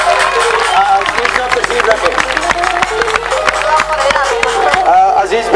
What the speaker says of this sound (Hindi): तालियों से वेलकम कीजिएगा